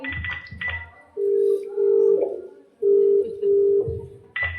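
A phone ringback tone purrs in two long paired pulses, repeating without anyone answering, with brief background noise between rings.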